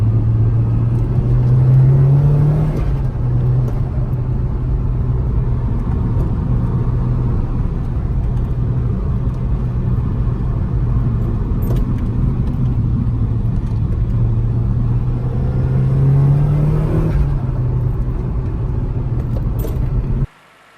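A Nissan Silvia S15 Spec R turbo engine runs at a steady, loud idle with a deep, even drone. It briefly revs up twice, once near the start and once near the end, then cuts off abruptly.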